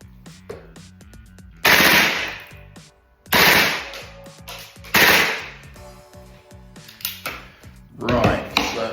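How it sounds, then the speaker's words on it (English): A Tokyo Marui MWS gas airsoft rifle fires in several sharp bursts, each a loud rapid crackling volley with hissing gas, separated by short pauses and quieter mechanical clicks. "So I'm just going to put in a fresh mag before we go any further and do a quick rate of fire test."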